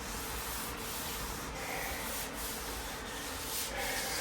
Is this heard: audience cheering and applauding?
no